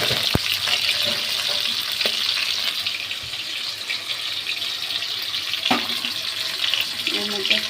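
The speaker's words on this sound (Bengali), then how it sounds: "এবার চিংড়ি মাছগুলো আমি কড়াইতে দিয়ে দিচ্ছি। হালকা ভাজা ভাজা করে" Shrimp frying lightly in a kadai for a kochur loti chingri dish, a steady bright hiss of oil with occasional clicks and stirring knocks, continuous and moderately loud throughout.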